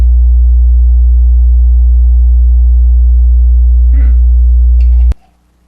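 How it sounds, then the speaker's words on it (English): A loud, steady 60 hertz sine wave tone hums low and pure for about five seconds, then cuts off abruptly, with a faint brief sound partway through. "This is a sine wave"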